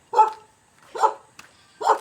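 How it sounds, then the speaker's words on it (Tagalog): Dog barking in three loud, separate barks spaced about a second apart, close by, with brief quiet between them and no talk over them. "ang ingay aso"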